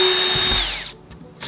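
A cordless drill bores a corner hole in a Ford Transit van subfloor panel, a loud close whine that winds down and cuts off, followed by a brief quiet gap before a short burst resumes.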